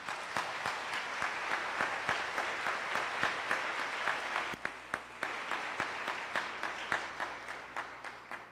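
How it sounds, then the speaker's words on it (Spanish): An audience at a law faculty gathering at UASLP in San Luis Potosí applauds to welcome a guest speaker, a steady, moderately distant round of many hands clapping that carries on for several seconds. "Lo recibimos con un fuerte aplauso, por favor."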